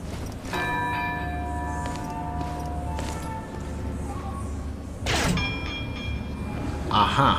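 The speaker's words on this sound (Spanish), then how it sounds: "vamos a tocar la campana," A large church bell in a castle hall in the video game Castlevania Lords of Shadow is struck several times, each clang leaving a long, ringing, metallic hum that sustains in the background, with a louder strike partway through.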